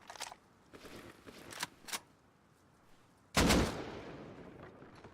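A single loud AK rifle shot in the video game Rust cracks out near the end, preceded by a few softer clicks and knocks at night; no talking.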